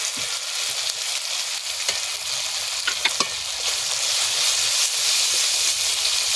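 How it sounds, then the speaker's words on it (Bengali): Onions frying with ginger-garlic paste in a pan for a Bengali egg curry with matar dal, giving a steady, dense sizzle throughout with a few light stirring clicks near the middle, close and fairly loud, with no talking. "পেঁয়াজের সঙ্গে একটু ভালো করে ভেজে নেবো আদা রসুন বাটা"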